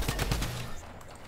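Rapid gunfire from a gun in a video game, a quick burst of three or four sharp shots in the first half second that then fades into a quieter tail.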